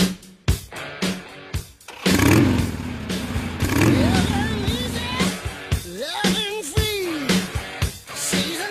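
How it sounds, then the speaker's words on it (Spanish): Motorcycle engines rev and rumble at a mass pilgrimage caravan of riders heading to Esquipulas, with repeated throttle bursts and clattering under a voice talking over the noise. "Rugen los motores."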